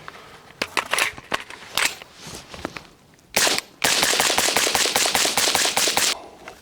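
A 5.56 rifle fired through an Exigent Defense Vanish 556 suppressor gives a series of sharp, clipped reports, first scattered single shots, then a dense rapid burst of shots lasting a couple of seconds, fairly close and without speech.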